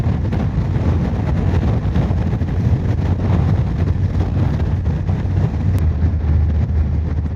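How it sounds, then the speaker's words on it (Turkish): Strong wind roars steadily over a Honda NC750X motorcycle riding a German motorway, a loud, continuous buffeting rush that fills the whole stretch with no voices. "Bıktık rüzgardan ya Almanya'da."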